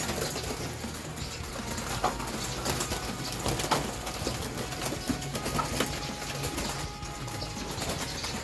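Pet pigeons kept by a fancier coo softly and steadily, with occasional wing flaps and shuffling close by, with no voices.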